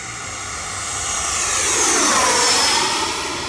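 An RC F-22 model jet streaks past at full throttle, its high-pitched electric ducted-fan whine swelling loudly as it nears and then easing off, with no other sounds.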